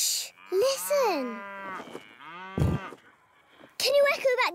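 A voice imitates cows mooing: drawn-out, wavering low moos, several in a row with short pauses between them, loud and close.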